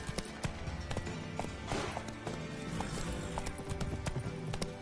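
Roach the horse gallops in The Witcher 3, with steady rhythmic hoof clip-clops close and continuous, set against a busy game soundscape with a brief burst of noise midway.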